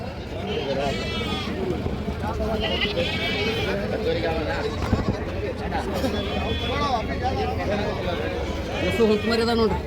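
Sheep and goats bleat repeatedly at the busy Monday Bagewadi sheep and goat market, close wavering calls from several animals over a constant crowd hubbub, with people talking throughout.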